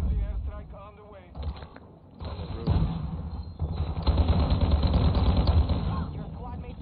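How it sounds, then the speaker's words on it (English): Gunfire and explosive bursts from a war video game, with an enemy airstrike called in, rattle steadily at moderate level, with a brief lull near the two-second mark before denser firing resumes under a game voice. "Enemy airstrike on the way."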